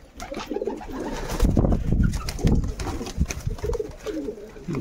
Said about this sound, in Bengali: চলো ভিতরে কিছু কবুতর তোমাদের দেখাই।